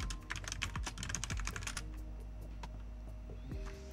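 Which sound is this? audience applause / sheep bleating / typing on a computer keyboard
typing on a computer keyboard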